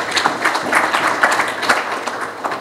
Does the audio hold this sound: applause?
yes